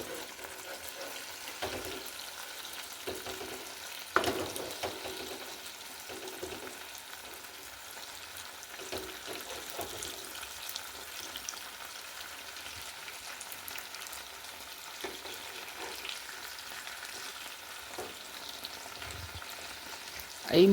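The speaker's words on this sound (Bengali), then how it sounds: "এই মান পাতা, এই মধুমান পাতা ভাজা," Chicken paturi parcels wrapped in madhuman leaves fry in a pan with a steady low sizzle, broken by occasional clicks and scrapes as the parcels are turned.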